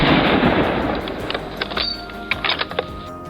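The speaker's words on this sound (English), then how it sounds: "I tracked the moving shadows and squeezed off a series of shots" A series of hunting gunshots aimed at wild boar, heard as several sharp, fairly distant cracks spread through the second half, over a dense, noisy outdoor background.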